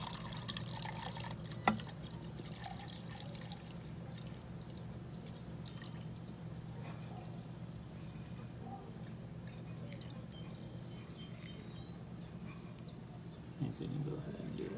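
Liquid RSO cannabis oil mixture being poured into a container: a faint, steady pouring trickle under a low background hum, with a brief bird chirp and occasional soft knocks.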